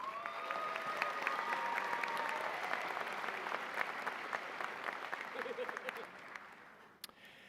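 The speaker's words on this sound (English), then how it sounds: "Let's give them a round of applause" Graduation audience applauding a brass ensemble at a Catawba College undergraduate commencement, a broad wash of clapping from a large crowd that holds steady, then gradually fades out near the end.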